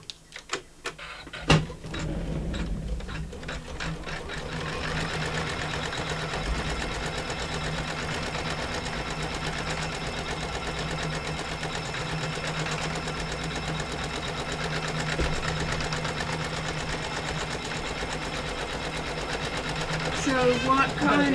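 A sewing machine runs steadily stitching on a quilt, a continuous close mechanical whir and rapid clatter that holds for about twenty seconds after a brief start-up.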